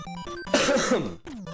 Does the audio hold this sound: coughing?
yes